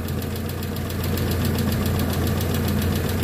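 A Euro 4 car engine with electronic throttle, freshly fitted with a new head gasket, idles steadily with a low continuous drone and faint knocking rhythm, close and constant throughout.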